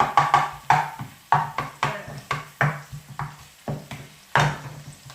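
Sauce for a spicy drunken-noodle-style spaghetti stir-fry in a pan, heard up close as a steady run of sharp clinks and scrapes from stirring over a soft sizzle.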